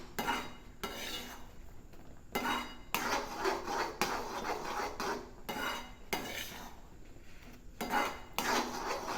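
Pineapple kesari is stirred in a pan, with repeated close scraping and clinking strokes of a utensil against metal coming in uneven bursts, with no talking.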